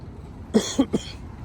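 A short burst of three quick coughs from one person, close and fairly loud, over quiet background.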